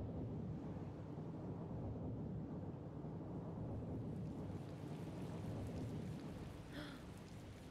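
Heavy thunderstorm rain in Tales of Vesperia pours steadily and loudly, a dense continuous wash with a low rumbling undertone of thunder throughout and no voices.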